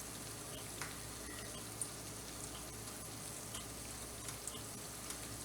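Cinnamon French toast frying in a pan gives a steady, quiet sizzle with faint crackles and small pops scattered throughout, and no voices.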